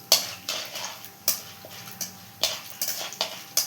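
Cumin seeds stirred in a hot pan with a spoon, making a series of sharp metallic scrapes and clinks at an uneven rhythm, close and fairly loud, with no talking.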